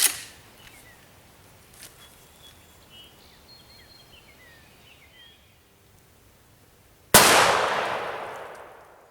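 A single loud shotgun blast fired at a turkey target from 10 yards outdoors, arriving near the end after a long stretch of quiet with faint birdsong, its sharp crack decaying over about two seconds.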